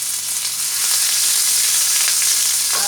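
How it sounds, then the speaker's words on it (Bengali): Chopped ginger sizzles steadily in hot oil alongside browned garlic, a loud continuous close-up hiss with no talking. "আদাটাকে দিয়ে দিতে হবে তেলের মধ্যে।"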